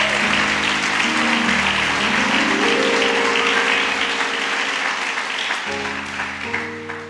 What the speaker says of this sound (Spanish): Un aplauso a este hombre.